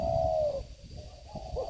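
A captive spotted dove cooing close by, a sustained clear coo that fades, then a shorter rising coo after a brief pause, with no talk over it.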